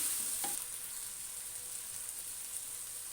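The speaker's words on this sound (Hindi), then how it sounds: "मसाले को हम अच्छी तरह से भून लेते हैं।" Masala spices sizzle and fry in a pan for okra, a soft steady crackling hiss with a brief stirring clatter near the start, heard close and fairly quiet.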